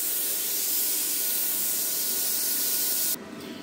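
An Arccaptain CUT50 plasma cutter slicing through metal gives off a loud, steady, close hiss that holds evenly and then cuts off abruptly near the end, leaving a faint residual noise.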